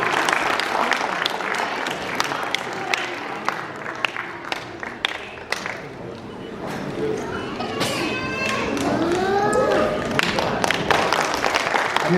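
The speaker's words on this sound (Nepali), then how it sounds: "हामी सबैजनाले ताली बजाउनेछौँ" Applause from guests at a Nepali Christian engagement ceremony, a dense crowd clapping that rises and thins, with voices talking throughout.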